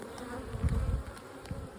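A steady, close buzzing of many honey bees at a hive hums continuously, low and droning, with no voices present.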